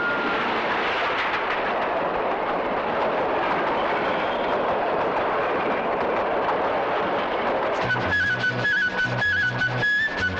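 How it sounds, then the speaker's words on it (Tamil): A loud, continuous roar of a passing train fills the clip, with rhythmic rumbling and a horn-like tone toward the end. "ரயில் வருது வேடிக்கை பார்த்துட்டு போ."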